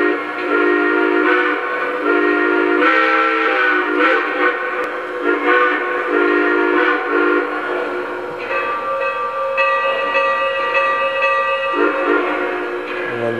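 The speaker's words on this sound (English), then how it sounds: "And the whistle." A Lionel Legacy model steam locomotive sounds its whistle, a loud harmonic chord blown in several long blasts and shorter toots over a steady background rumble, with no talking.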